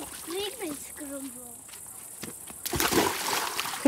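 A child holding a swim ring jumps into water, making a loud splash and slosh near the end. People talk over it beforehand.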